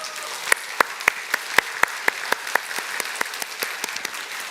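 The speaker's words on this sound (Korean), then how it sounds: "자 우리 한번 인사할 때 크게 한번 박수해 주시기 바랍니다" A church congregation claps for a couple at a Sunday worship service: about fifteen sharp, evenly spaced claps at a moderate distance, with no other sound.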